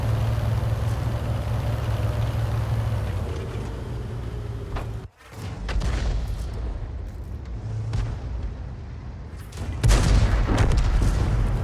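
A shell strikes a Chrysler tank in a video game, heard as a sharp, loud boom over continuous engine rumble, followed by more booms and gunfire at close range.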